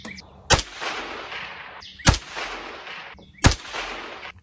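Three loud rifle gunshots from a bolt-action rifle fired outdoors, evenly spaced about a second and a half apart, each a sharp crack followed by a long rolling echo.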